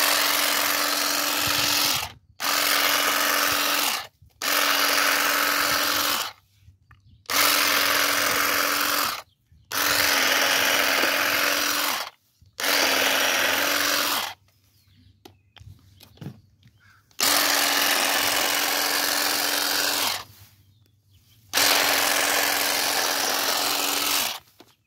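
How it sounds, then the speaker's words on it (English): A Saker cordless trimmer runs outdoors in repeated bursts of a few seconds each, a steady high motor whine with a constant hum, stopping and restarting about eight times with brief silent gaps. "Let's see how the grass trimmer works."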